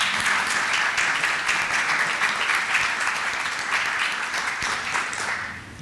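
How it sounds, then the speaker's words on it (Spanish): A seminar audience applauds after a presentation, with dense, sustained applause from many people that holds steady and then tapers slightly at the end. "¿Le damos un aplauso?"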